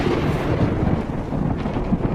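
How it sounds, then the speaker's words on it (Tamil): Low thunder rumbles on without a break for a couple of seconds, deep and moderately loud, with no voices. "இடி இடிக்குதுமா"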